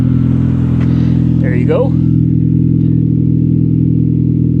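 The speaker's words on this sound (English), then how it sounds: "Let's go back and hear this fart can exhaust real quick." A Honda Civic Si with a fart can exhaust idling with a loud, steady droning rumble up close, a person speaking briefly over it.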